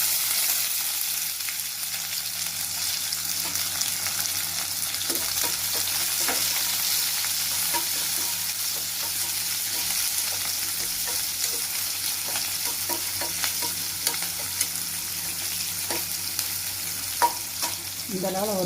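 Small shallots fry in oil for a spicy squid dish, giving a close, steady hiss of sizzling with scattered taps and scrapes of a spatula stirring them around the pan.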